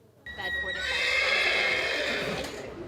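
A horse whinnies loudly and close at a Cavalia Odiseo big-top equestrian theatrical show, one long neigh with a sharp tonal start that swells and then fades toward the end.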